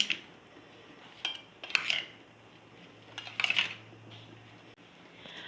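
A spoon clinks against a metal pot while spices are mixed into boiled water chestnuts, a few sharp scraping taps in short bursts over a quiet background.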